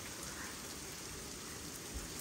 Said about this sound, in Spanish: Ya nos anda cayendo hielo.